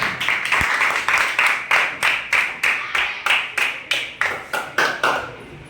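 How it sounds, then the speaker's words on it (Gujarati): A group of schoolchildren claps together in steady, rhythmic unison at a primary school quiz competition, with about fourteen loud, evenly spaced claps that are close and strong. "આપણે સૌ તાળીઓથી ફરીથી અમને બતાવીએ જોરદાર તાળીઓ પાડીએ"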